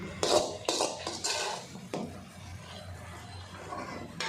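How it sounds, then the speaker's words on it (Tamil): Manathakkali greens sautéed in a pan with egg, giving a few clattering utensil-on-pan scrapes and knocks early on, then a quieter, steady low sizzle and stir. "ஸோ நல்லா வதங்குற வரைக்கும் நம்ம சாட்டே பண்ணிகிட்டே இருக்கலாம்"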